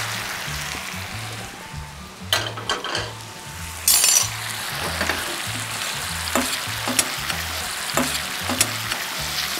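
Fish in tomato sauce with basil and chili frying in a pan, a steady bright sizzle with sharp utensil clanks and scraping bursts, over a low rhythmic pulsing hum, no talking.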